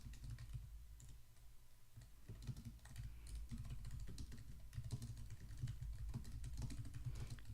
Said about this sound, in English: So I can type in copyright 2015.